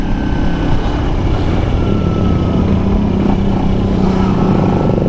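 A 2009 Kawasaki Ninja 250R Limited Edition motorcycle climbs a hill at 5000–6000 RPM, its engine droning loud and steady throughout with constant wind rush and no letup.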